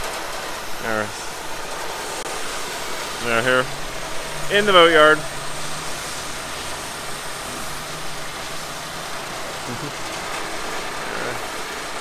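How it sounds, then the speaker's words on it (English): A boat engine idling loudly in a boatyard as the sailboat is prepared for launch, a steady droning rumble throughout with someone talking over it. "I have no idea if anybody can hear me over the racket of the engine here"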